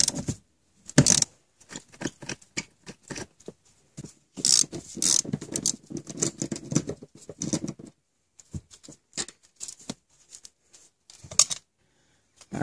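A ratchet clicks in rapid bursts while loosening 14 mm car seat bolts, the sharp metallic ticking coming in short, uneven runs with brief pauses between strokes.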